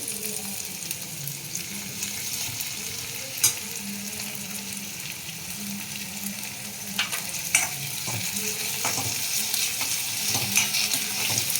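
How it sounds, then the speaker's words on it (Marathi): Onion frying in a pan with ginger garlic paste added for a spiced amaranth-leaf dish, a continuous close sizzle with occasional scraping stir strokes and small clinks, no voices. "आता आपण आले लसूणच्या पेस्ट घालू"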